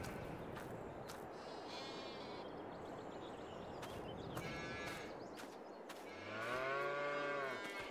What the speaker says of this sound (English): And as you can see, we got cows in here too.